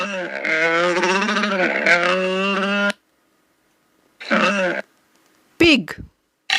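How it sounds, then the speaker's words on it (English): A camel's call for a children's animal-name lesson: a long, loud, throaty groaning bellow with a wavering pitch, followed by a shorter bleating cry and a brief sharp burst, heard close and alone. "Camel."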